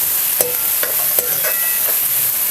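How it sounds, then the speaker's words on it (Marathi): Finely chopped tomatoes sautéed with onions in a pan, a steady close sizzle with a few sharp utensil clinks against the pan and short stirring scrapes. "टमॅटो घालून आपल्याला चांगलंसं परतून घ्यायचं"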